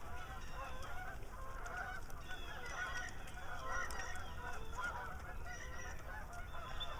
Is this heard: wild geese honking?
yes